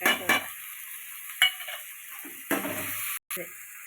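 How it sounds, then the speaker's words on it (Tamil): Onions sautéing with rock salt in a pan, a soft sizzle broken by short bursts of stirring scrapes, close and fairly quiet with brief gaps. "வெங்காயம் நல்லா வதக்கிக்கிட்டு இருக்கு"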